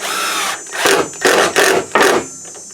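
A power drill drives two screws down into a wooden assembly, whirring in several short, loud bursts close by, with brief pauses between each spin.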